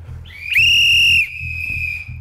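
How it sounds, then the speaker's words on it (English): A single loud, shrill whistle blast rises sharply and holds for under a second before fading into a quieter trailing tone, set over low background rumble. "I blew my whistle"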